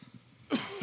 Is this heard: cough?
yes